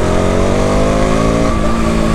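A KTM motorcycle at night accelerating hard, its engine note loud and close with a continuous buzzing roar for a couple of seconds and no voices.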